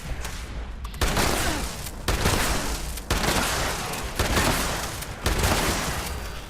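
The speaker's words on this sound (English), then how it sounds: "The explosive shotgun. Still the best thing in the world." Explosive shotgun blasts in the game Fallout 76, five or six loud booming shots at a steady pace about once a second, each with a burst of crackling explosion noise, no talking.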